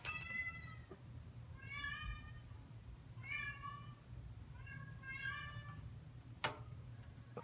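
Pet cats meow from just outside a closed room, several drawn-out calls in a loose sequence over a steady low hum, with one sharp knock near the end.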